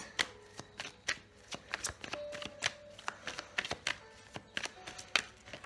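A deck of tarot cards is shuffled by hand, giving quick, irregular papery snaps and riffles close by, steady for several seconds with no speech.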